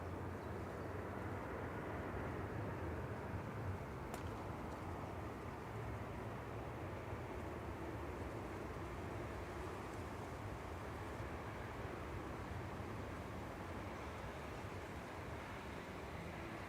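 EasyJet Airbus A320-200 at Manchester Airport, a steady broadband jet roar holding at an even level throughout, with no talk over it.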